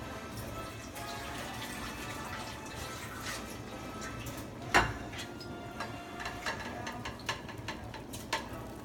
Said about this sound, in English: So I'm going to get this water out of it.